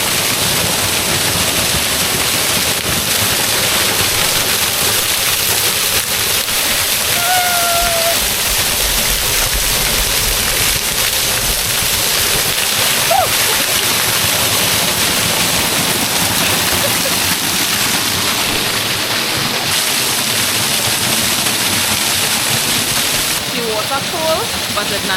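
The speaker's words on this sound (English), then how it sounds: "it's just water falling onto the rocks basically" Water from a waterfall in the Northern Range pours steadily onto rocks, a dense continuous roar of splashing and spray that fills the whole clip, with a voice heard briefly over it.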